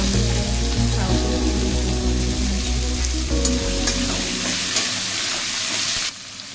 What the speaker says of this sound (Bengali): তারপরে পেঁয়াজটা আর কারি পাতাটা একটু ভাজবো